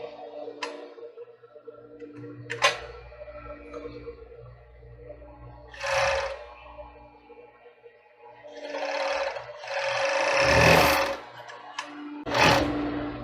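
A sewing machine stitches a child's bra in short bursts, with several separate runs of rapid mechanical whirring and ticking, close and fairly loud, split by quiet gaps and small handling clicks.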